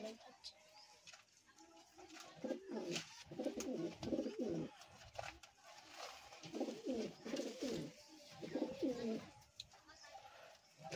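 Satin pigeons coo softly in repeated rhythmic bursts, near but quiet, with brief pauses between phrases and faint background noise.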